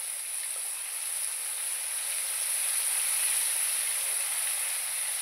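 Chicken stomach fries in a pan with salt and turmeric, giving a steady, even sizzling hiss that holds at a constant level throughout with no voices.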